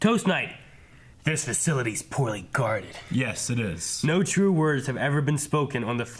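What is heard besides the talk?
No everyday noises stand out.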